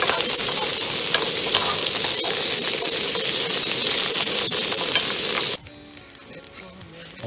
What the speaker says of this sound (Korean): 지금 갈비하고 숯불갈비하고 같이 먹으려고 지금 야채를 볶고 있는데요. 아스파라거스, 피마, 브로콜리.